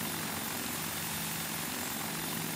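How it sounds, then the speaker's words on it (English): Helicopter arriving in the tactical shooter Tactical Intervention, a steady dense rotor and engine roar holding at even loudness throughout, close and continuous with no talk over it. "my helicopter's gonna come"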